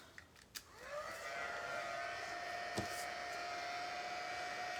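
A heat tool spins up into a steady whirring whine, with a clear high tone and a faint airy rush, after a few soft taps. It blows at white embossing powder on a card and runs continuously at low volume.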